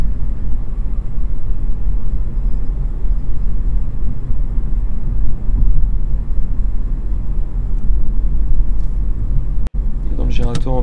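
Car driving at 70 km/h in fourth gear on an open road, a loud steady low engine and road rumble inside the cabin, with a driving instructor's voice heard near the end.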